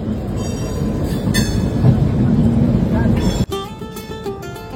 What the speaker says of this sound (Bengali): আর পাশ দিয়ে চলে যাচ্ছে লোকাল ট্রেন, এটা যাচ্ছে তারকেশ্বর।